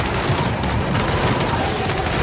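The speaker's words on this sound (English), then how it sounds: "We can't deal with those turrets!" Enemy turrets fire nonstop in Gears 5 combat, a dense, loud barrage of rapid gunshots and booms packed tightly together for the whole stretch, with no clear gaps between bursts.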